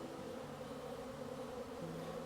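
Honeybees buzzing steadily around an open beehive frame holding nectar, eggs and pollen, a continuous low hum filling the whole stretch with no talking.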